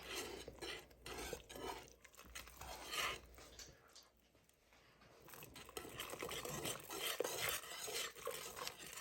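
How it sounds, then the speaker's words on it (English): Chicken pot pie soup whisked in a pot over medium-low heat, a busy scraping, swishing rhythm of the whisk against the pot with brief metallic clinks, fairly faint and close, pausing briefly midway before resuming. "give it a nice little whisk"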